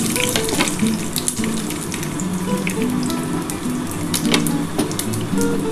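Bay leaf, a dried red chilli and whole cumin seeds sizzling in hot oil, a dense, loud, continuous crackle and hiss close up, with small pops and clatter throughout and no voices.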